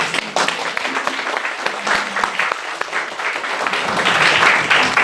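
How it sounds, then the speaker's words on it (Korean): An audience at a parents' education lecture at an alternative school applauds the lecturer, with sustained clapping that holds steady and grows slightly louder toward the end. "다시 한 번 더 박수"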